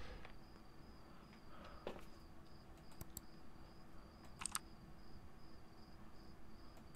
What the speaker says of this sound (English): the crickets in the game